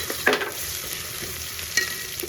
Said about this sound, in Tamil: இஞ்சி பூண்டு வச்சு நல்லா வதக்கிக்கலாம்